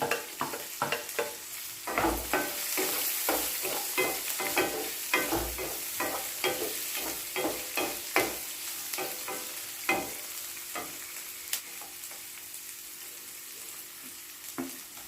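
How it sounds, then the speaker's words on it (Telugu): Green chillies and onion are stirred into okra and peanuts frying in a pan, with a steady sizzle under rhythmic scraping stir strokes that thin out toward the end. "పచ్చిమిర్చి ఉల్లిపాయ కూడా వేసుకొని కలుపుకోవాలి"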